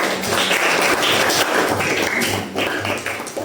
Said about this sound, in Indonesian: silakan dulu tepuk tangan buat Pak Bian ya